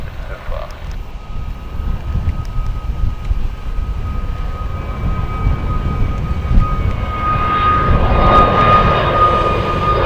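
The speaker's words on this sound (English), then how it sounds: "EasyJet going off to Lisbon" An EasyJet airliner bound for Lisbon taking off from Gatwick Airport, a loud continuous jet engine roar with a steady whine that builds toward the end.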